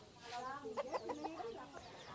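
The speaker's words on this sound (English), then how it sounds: "Chickens that aren't looking foul anymore. These birds are looking healthy." Chickens clucking close by in a short, soft run of bobbing calls over a quiet background.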